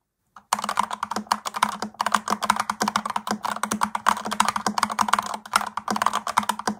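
Rapid, continuous typing on a stock mechanical computer keyboard, close and crisp, with dense clacky keystrokes heard alone.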